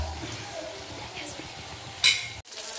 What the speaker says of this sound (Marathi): पनीर जास्त पण फ्राय नाही करायचं, थोडंसं लाल पडेपर्यंत हे फ्राय करून घ्यायचं।